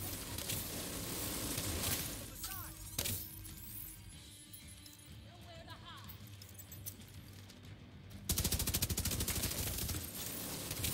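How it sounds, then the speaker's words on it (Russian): Scattered gunfire in a hunting video game, bursts of rapid shots near and far amid steady background noise, with a heavier volley near the end; someone talks throughout. "Там стреляют, тут стреляют."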